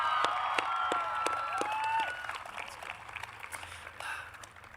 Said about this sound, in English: let's give everyone, both students and faculty, a round of applause